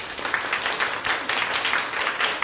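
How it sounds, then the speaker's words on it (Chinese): An audience claps for director Huang Shumei at a Taichung public philosophy talk, a steady, dense patter of many hands lasting throughout. "我们给黄淑美导演拍拍手好不好"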